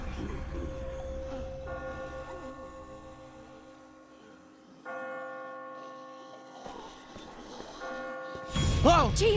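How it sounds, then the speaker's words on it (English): Heavy church-style bells toll in slow, resonant strikes within Telltale's The Walking Dead, each long ring hanging over a low rumble, followed by a sudden loud thump and a voice at the end. "I just got spooked by those bells"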